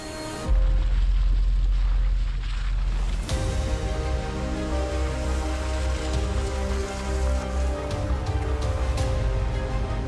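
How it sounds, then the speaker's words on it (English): Heavy spring rain drums steadily on a forest trail during a camping trip, a dense, loud, unbroken roar that jumps even louder after a few seconds and holds without pause. "the rain continued to intensify"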